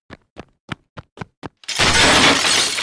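A burst of glass shattering crashes in loudly after a series of six sharp, evenly spaced clicks or knocks, the breaking glass ringing and spraying out as a dense, bright smash that fills the rest of the moment.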